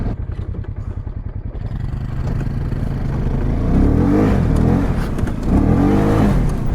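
A Polaris ACE 570 buggy engine revs hard up close, starting from a chugging idle that climbs into loud, rising surges of acceleration with repeated throttle swells and no voices.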